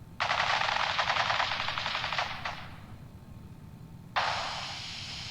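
Fallout 4 video game combat: a long burst of rapid automatic gunfire fades over about two seconds, then after a pause a second sharp burst erupts and rings out.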